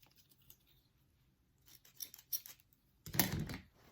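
Scissors snip through yarn ties on a knit cap: quiet, close crisp cuts in a short cluster, then one louder, longer snip near the end.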